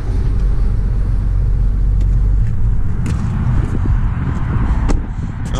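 Steady, loud roadside traffic from a nearby highway, a continuous low rumble of passing cars with occasional louder swells of vehicles going by, no voices.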